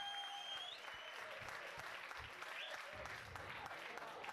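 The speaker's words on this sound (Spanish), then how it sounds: "Un fuerte aplauso para la chavala" Audience applause for a girl invited on stage at a 2019 Basque beatbox championship showcase, a steady dense crowd clapping that carries through the whole stretch, with faint whistles and cheers over it.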